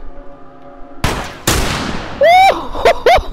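Gunfire in The Last of Us game rings out as two sharp, loud blasts about half a second apart, each with a rolling tail, followed by loud whoops and excited voices over the fading echo.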